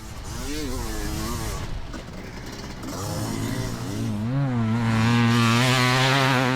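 A Kawasaki KX500 two-stroke motocross bike ridden hard around a track, its engine rising and falling through throttle changes, then climbing to a loud, raspy high-revving wail near the end.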